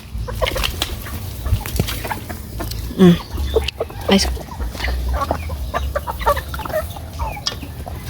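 Backyard chickens cluck and chatter in scattered bursts close by, with a few louder squawks mixed in, while people talk intermittently in the background.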